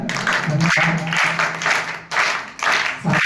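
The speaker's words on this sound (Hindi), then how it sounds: "पत्रकार महोदय के लिए ताली बजाते हैं।" Clapping for a journalist at a school event, loud, close bursts of hands clapping in uneven waves, with brief dips between them and some voices mixed in.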